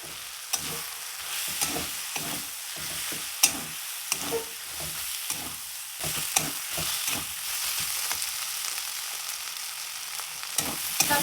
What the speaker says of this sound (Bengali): একটু ভালোভাবে হালকা ভেজে নিয়েছি